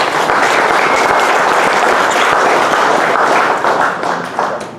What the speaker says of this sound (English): one more clap for Duncan